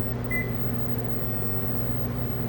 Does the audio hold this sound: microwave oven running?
yes